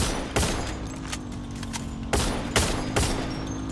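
Gunfire in the Free Fire mobile game comes as sharp, loud close shots in several quick bursts, with single cracks and short rapid volleys spaced across a few seconds.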